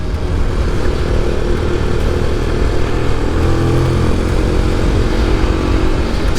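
An SWM Ace of Spades 125 motorcycle ridden gently on brand-new tyres, its engine droning steadily and loudly throughout with constant wind rush and no pauses.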